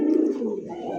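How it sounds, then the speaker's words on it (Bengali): A Chila pigeon coos up close, one loud, throaty, rolling call that fades off within about a second with no other sound around it. "আর ডাকটা কত সুন্দর, বাকবাকুম"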